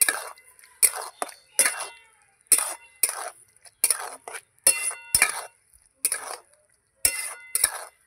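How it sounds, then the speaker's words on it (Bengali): Jackfruit manchurian being stirred with tomato sauce in a pan, giving repeated close clinks and scrapes of a utensil against metal in bursts with short pauses between. "টমেটো সস দিয়ে ভালো করে নাড়াচাড়া করে নেব।"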